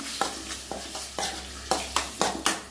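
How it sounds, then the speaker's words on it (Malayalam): Spoon stirring sliced onions into egg curry in a frying pan, a series of about eight distinct scraping strokes at a steady rhythm over a soft sizzle, close and moderately loud. "നമുക്കൊന്ന് ഇളക്കി കൊടുക്കണം"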